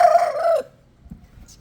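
An Aseel chicken gives one short, loud, crow-like call that ends abruptly. Near silence follows, with only faint background noise.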